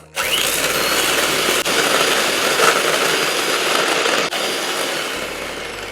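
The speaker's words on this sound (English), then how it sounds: "In the mixing bowl, let's whisk the egg yolks until smooth and slightly frothy" Egg yolks are whisked in a mixing bowl for a keto custard, a loud, continuous whirring buzz like an electric mixer that runs steadily with two brief dips and no talking.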